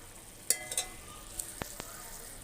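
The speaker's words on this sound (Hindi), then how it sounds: "गोश्त देखें कितना ज़बरदस्त फ्राई हो रहा है।" Fatty beef frying in a pan, a faint steady sizzle with a few sharp pops and crackles scattered through it.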